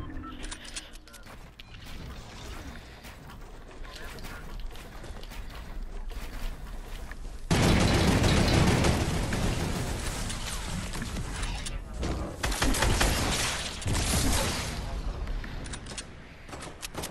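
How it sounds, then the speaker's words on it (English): Gunfire in a Fortnite match, scattered shots and bursts through the clip that swell into a louder, denser stretch in the middle, with voices talking at times. "Other people are shooting him."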